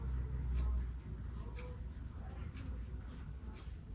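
A pen writes a maths answer by hand, soft scratchy strokes in short bursts alongside a low hum, fairly faint and close.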